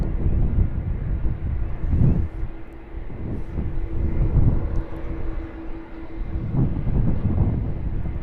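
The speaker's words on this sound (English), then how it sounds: "The A330 heading out to Bali." An Airbus A330 departs Sydney Airport bound for Bali, its jet engines producing a steady, broad roar that swells and eases in waves, heard from a distance with some wind buffeting and no voices.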